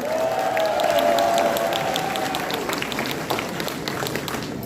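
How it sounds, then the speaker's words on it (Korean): Applause from a political party conference audience in a hall, a dense steady clatter of many hands under a sustained tonal hum and faint crowd noise, fading slightly toward the end. "힘찬 박수 부탁드립니다"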